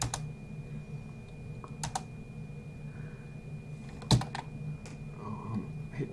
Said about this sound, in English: Oh, I'm hitting wrong keys.